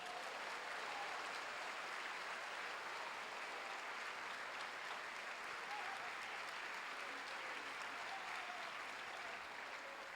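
A church congregation applauds in a steady, dense wash of clapping that holds for the whole stretch, sounding somewhat distant and uniform without a clear peak.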